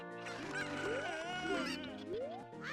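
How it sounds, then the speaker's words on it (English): Cuccos, the chickens of the video game Zelda: Ocarina of Time, playing in a randomizer: a flock of them squawks and clucks in rising, honking calls that overlap continuously, loud and close. "Alright, here come the chickens."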